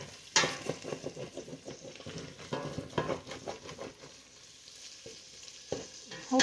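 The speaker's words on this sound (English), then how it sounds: "You can see I got the butter there, got this in there, so we're just going to cook this for a few minutes" Green pepper cooking in butter in a pan, a steady close sizzle broken by repeated stirring scrapes and clinks against the pan, with no voices.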